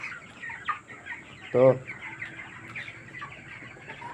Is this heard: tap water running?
no